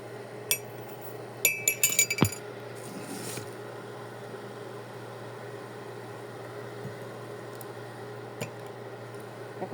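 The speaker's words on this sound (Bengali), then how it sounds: "আর এদিকে আমি চাটা নামিয়ে নেবো আর 1 চামচ করে চিনি দিয়ে দিব।" A spoon clinks against a glass while sugar is stirred into rose tea, with a quick burst of bright taps near the start and a few isolated clinks later over a steady low hum.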